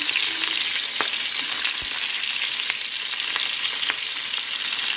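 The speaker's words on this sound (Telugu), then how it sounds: "ముందుగా అయితే నేను టమాటా వేసిన ఉడుకుతాను" Tomatoes frying in a pan as the first step of a chutney, a steady close sizzle with occasional stirring clicks and pops throughout.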